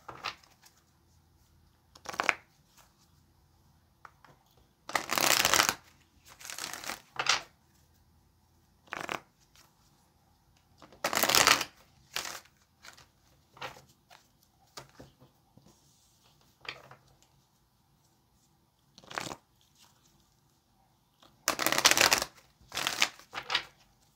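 Tarot cards being shuffled in bursts: several sharp, riffling flurries of a few seconds each, separated by quiet pauses and lighter card handling, close and fairly loud with no voice.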